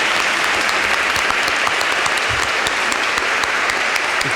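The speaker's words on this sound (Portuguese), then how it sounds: "vamos acolher o Dom Celso Alexandre com a salva de palmas nessa Santa Missa" A church congregation at Mass in São Paulo welcomes a bishop with loud, even, continuous clapping that fills the space from start to finish.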